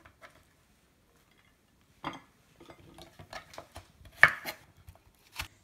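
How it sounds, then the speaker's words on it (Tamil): A knife chopping okra (ladies finger) into pieces on a board: after a quiet start, a run of crisp, uneven taps and thuds, close and fairly soft, with no talking. "ஹாஃபாக கட் பண்ணிவிட்டு அதை வந்து 4 கட் பண்ணிக்கோங்க"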